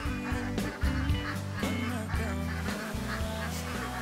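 Ducks on a village farm quacking loudly and repeatedly, several overlapping honking calls close by in a continuous chorus, with little talk over them.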